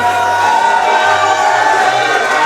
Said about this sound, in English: getting so much hype from the crowd